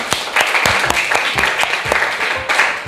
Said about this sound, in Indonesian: Kita beri dulu tepuk tangan yang meriah untuk kita semua.